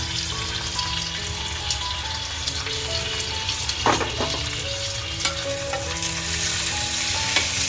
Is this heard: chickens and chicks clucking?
no